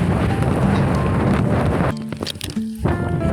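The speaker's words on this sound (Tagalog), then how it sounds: "Ang lakas po ng hangin." Strong wind buffets the microphone outdoors as rain begins, a loud continuous roar that drops out briefly midway before gusting back.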